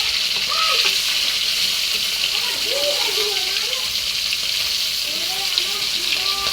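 Pieces of silver carp frying in hot oil while being turned over, a dense continuous sizzle with faint background voices and tonal sounds drifting underneath, close and steady.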